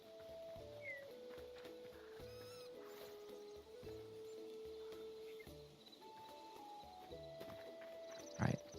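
Horse hooves clip-clop in the Hytale video game, a soft, steady run of hoofbeats under in-game music and ambient sounds, with a brief louder knock near the end.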